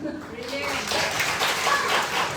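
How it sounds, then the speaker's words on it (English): Brief round of applause from an audience at a live International Women's Day finance event, a short burst of clapping with someone speaking over it. "Yeah, nice round of applause"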